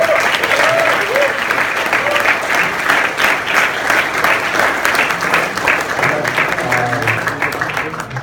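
An audience claps loudly and steadily for the Melbourne leadership team, a dense sustained round of applause with a few scattered voices and cheers mixed in.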